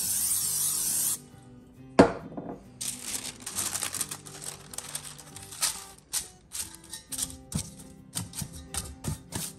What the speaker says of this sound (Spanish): le voy a agregar aceite en aerosol